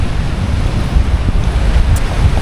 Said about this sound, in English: Windy as always. It's always windy here on Guam